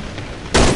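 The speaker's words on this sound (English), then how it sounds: "Where do you hear my gunshots?" A single loud gunshot in the video game Cry of Fear bursts out after a brief quiet stretch of low background noise, its sharp blast ringing briefly before fading.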